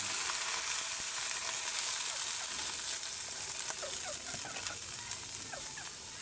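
Corn and broth simmer in a pan with a soft, steady bubbling sizzle while a utensil stirs with faint scrapes, close and fairly quiet.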